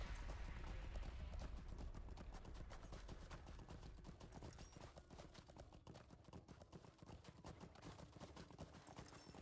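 Horse hooves clip-clop steadily in the video game LOTRO, a continuous rhythmic trotting close up and fairly loud, with no talk over it.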